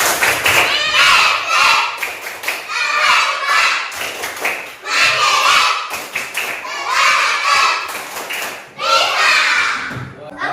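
In an Indonesian elementary school classroom, a class of children does the rhythmic Tepuk SD 84 clap chant. Voices shout in unison in bursts, punctuated by sharp patterned clapping, several rounds in a row.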